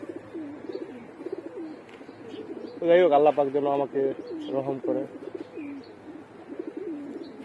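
Pigeons cooing softly in a loft, repeated low throaty calls running through the background while someone talks over them.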